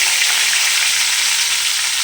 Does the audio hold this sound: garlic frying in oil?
yes